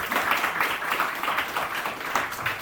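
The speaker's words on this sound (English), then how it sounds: "a big round of applause" A crowd at an investing club talk applauds a speaker, a dense, steady patter of many hands clapping at moderate loudness from start to finish, without clear speech.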